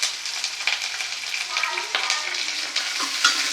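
Onions and curry leaves frying in oil in a pan for goat brain fry, a steady close hiss and sizzle with a few soft spoon stirs, no voices.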